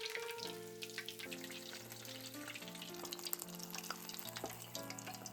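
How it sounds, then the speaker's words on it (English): Food deep-fried in oil at 180 degrees over high heat for a Japanese winter kaiseki soup, with a steady crackling sizzle running under continuous background music. "I deep fry them over high temperature for a short time."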